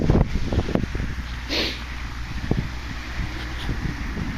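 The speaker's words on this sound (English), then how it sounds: "it's getting a bit windy now" Gusts of wind buffet the microphone outdoors in a field during metal detecting, with rustling and soft thumps, no speech.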